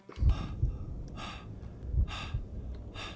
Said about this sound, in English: Stop breathing funny